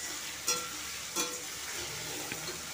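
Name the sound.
chopped potatoes frying in oil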